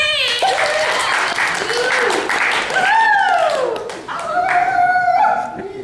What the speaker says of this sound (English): So please, a round of applause for Miss Lee!